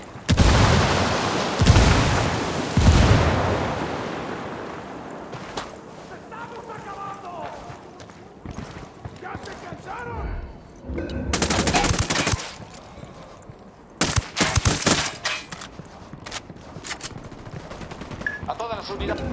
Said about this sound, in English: Estamos bajo el fuego de armas enemigas y no sabemos cuántos son